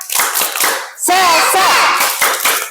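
A classroom group performs the rhythmic tepuk semangat clapping chant, sharp hand claps in quick patterned bursts mixed with chanted voices, loud and close throughout.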